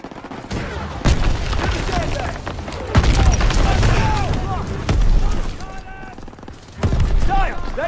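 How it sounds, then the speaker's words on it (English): Gunfire from Call of Duty WWII during the Battle of the Bulge: dense, repeated bursts of rifle and machine-gun shots with heavy booms, loud and continuous throughout. "Gunfire! We must be near our guys."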